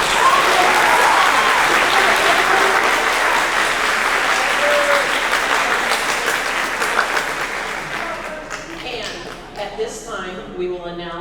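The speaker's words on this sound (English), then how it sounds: "Please give them a round of applause." Crowd at a middle school eighth grade awards ceremony applauding loudly and steadily, the clapping thinning out toward the end as a voice begins speaking.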